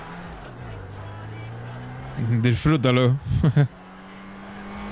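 A car's engine pulls hard in a GTA roleplay game, a steady low drone that swells and revs through the middle under a voice before settling back to an even hum.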